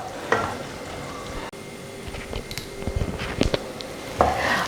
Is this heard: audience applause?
no